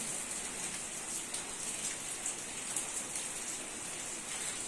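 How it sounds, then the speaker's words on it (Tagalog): Steady rain falls outside a house, a dense even hiss of drops with no breaks, heard from indoors at moderate distance. "Umulan guys."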